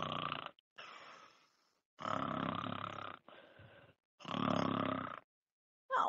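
A storyteller's voice imitates a bear snoring: loud, rasping, grunting snores alternate with softer drawn-in breaths in a slow, regular rhythm, close and alone.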